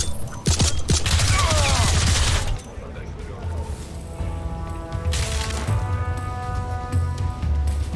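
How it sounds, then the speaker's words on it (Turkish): Gunfire in Crysis Remastered, where a pistol is being tried out: a dense burst of loud sharp shots opens, and more scattered shots follow over game ambience. "Hadi bakalım, bir de tabanca deneyelim."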